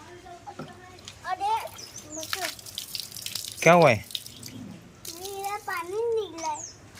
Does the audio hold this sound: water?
yes